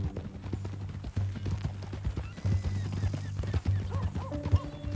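Horse hooves clip-clop steadily at a walking pace in Red Dead Redemption 2, under a low hum and soft background music, moderately near and fairly quiet.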